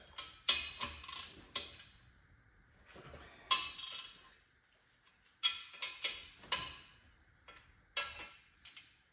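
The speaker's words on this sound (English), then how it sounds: "what we're going to do is untorque some of these caps, or all of these caps" Wrench clicks and ratchets at main bearing cap bolts on a Cleveland engine block during assembly, loosening the caps: a series of sharp metallic ticks and clacks in separate bursts, close and fairly quiet, with no talk.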